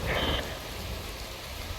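Rain falling steadily in the video game Metal Gear Rising, a broad continuous wash of patter with a brief brighter tone at the start, no voices.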